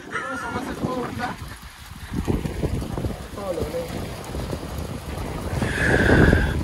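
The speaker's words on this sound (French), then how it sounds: "Il y a du vent, ça m'emporte." Gusty wind buffets the microphone with low rumbling bursts in cold, hail-prone weather while people talk over it.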